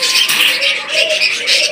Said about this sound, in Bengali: এখান থেকে নিচে দেখতে পাচ্ছেন এক জোড়া অস্ট্রেলিয়ান ঘুঘু পাখি